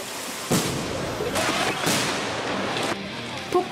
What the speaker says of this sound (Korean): 폭탄 효과가 들어간 스케일이 큰 촬영.